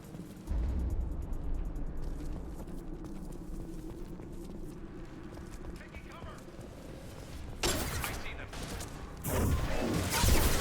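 Gunfire and blasts during a firefight at a compound in Mass Effect 2, a dense rumbling layer of shots with louder bursts near the end, mixed under game voices and music.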